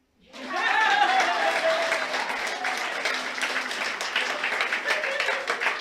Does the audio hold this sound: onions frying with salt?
no